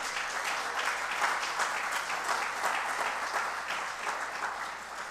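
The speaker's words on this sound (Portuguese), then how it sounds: "Pode aplaudir o Senhor, aplaude." Church congregation applauding, a continuous, evenly sustained roar of many hands clapping, fairly distant and without voices on top.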